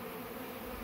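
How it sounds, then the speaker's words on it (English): A faint, steady insect buzz, low and droning, heard briefly and from a short distance. "there's a bumblebee trying to get in there"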